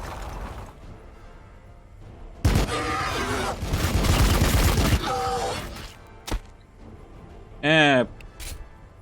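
Gunfire from the Warhammer 40K: Battlesector strategy game, a couple of loud sustained bursts of shots with sharp impacts between, heard alongside game voices and a tank on the field.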